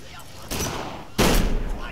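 Gunfire from the video game Kane and Lynch 2: Dog Days, two loud broadband bursts about half a second apart, the second stronger and sustained, over a steady game background.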